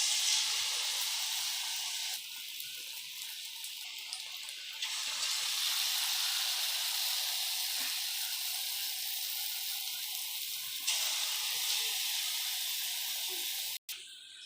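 Kachayam dough fries in hot oil over a medium flame, giving a steady, loud bubbling hiss that shifts in level a few times. A brief clunk comes near the end.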